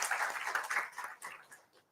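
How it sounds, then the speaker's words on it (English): An audience claps for a jury member at a police hackathon pitch session, a short burst of dense applause that quickly thins and fades within two seconds. "We can have a round of applause for sir."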